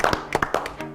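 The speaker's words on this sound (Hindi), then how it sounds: "जोरदार तालियां बगावत टीम" Clapping for the winning Bagawat team at a history quiz show: a short burst of close, uneven hand claps, brief and fairly sparse rather than a sustained roar.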